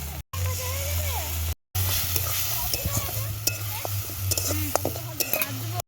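Turmeric and chilli powder sizzle with fried onions, ginger, garlic and tomato as a spoon scrapes and stirs the pan, all loud and close. People talk underneath and a steady low hum runs throughout.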